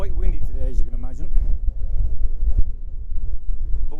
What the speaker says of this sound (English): quite windy today, as you can imagine.